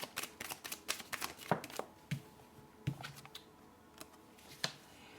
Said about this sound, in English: So I just want to pull out one more card.